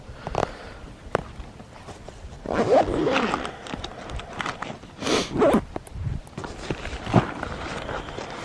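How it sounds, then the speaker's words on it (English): A zipper pulled along a soft fishing tackle box in a few quick rasping strokes, close and fairly loud, with some handling noise between pulls. "Zip this up so I can flip it over."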